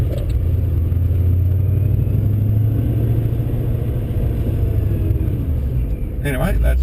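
A Pontiac GTS with a built 402 LS2 V8 and a custom T-trim Vortech supercharger cruises with a steady, loud, low engine rumble from inside the cabin, and a voice speaks over it.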